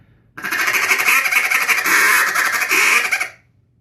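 A Duck Lander duck call blown by hand gives a loud, sustained quacking burst lasting about three seconds, rough and raspy, then cuts off into near silence.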